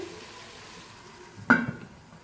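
Onions, ginger garlic paste and chicken frying in a pot for chicken chana pulao, with a soft steady sizzle and one brief scraping stir partway through, close by and fairly quiet.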